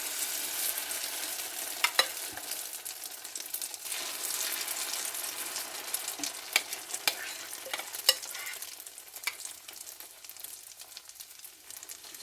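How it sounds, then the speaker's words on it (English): Beaten eggs mixed with crab sizzle in oil over low heat in a pan, a steady close frying hiss broken by light scraping taps of a utensil stirring them around. "mix it so the eggs will distribute all around. And make sure there's enough oil also here."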